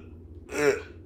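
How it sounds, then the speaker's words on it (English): A person clears their throat once, a short, close, rough vocal rasp rising over faint background hum. "Sorry, I'm trying to clear my throat."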